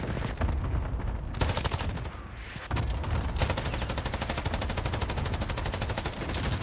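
Loud, continuous automatic gunfire in the multiplayer video game Modern Warfare, fast rattling bursts that pause briefly and then resume, with little talking.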